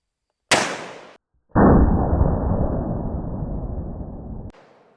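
A single sharp, loud blast from a .500 Magnum revolver cracks out, followed moments later by a long roaring boom that slowly decays over several seconds outdoors.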